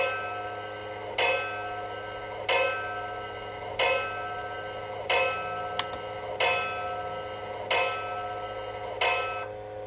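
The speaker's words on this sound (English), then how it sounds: "Alright, here's the bell." The bell of a Bachmann Southern Pacific 4449 Daylight model steam locomotive rings in a steady rhythm, about eight clear strikes roughly every 1.3 seconds, each chime ringing out and fading before the next.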